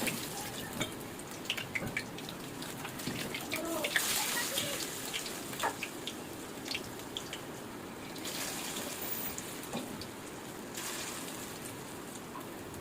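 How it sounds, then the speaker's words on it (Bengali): Small pumpkin kofta balls frying in a pan of hot oil over medium heat, a steady crackling sizzle with dense popping spatters that swell in louder bursts, running continuously throughout without anyone speaking. "তেলের মধ্যে দিয়ে ভেজে নেব"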